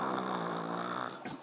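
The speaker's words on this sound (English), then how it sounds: "You can tell he's really asleep by the type of snoring he does." A sleeping horse snoring, one long drawn rasping breath with a throaty buzzing texture, close and fairly quiet, ending with a brief snort.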